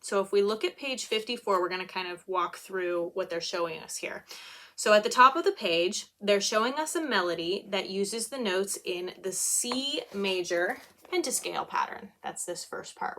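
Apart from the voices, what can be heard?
No distinct noise like a dog, phone or traffic.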